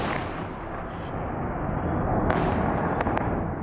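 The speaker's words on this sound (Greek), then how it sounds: "Ισχυρές εκρήξεις ακούγονται πάλι στα νότια προάστια" Bombardment explosions in Beirut's southern suburbs heard from a distance, dull booming thuds and rumbling over a noisy background, with a few sharper bangs later on.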